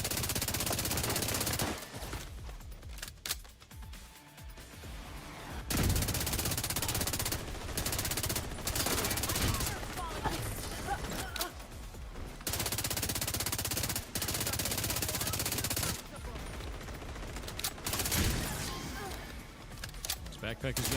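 Automatic turret gunfire in the shooter game The Division 2 during a battle in Brooklyn, with bursts of rapid shots recurring through the fight and people talking over them.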